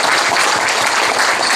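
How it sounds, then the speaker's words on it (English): A tech meetup audience claps for a panel on connected cars, a loud, dense wash of applause filling the whole short stretch without a break. "I'd like to give applause to the panel here"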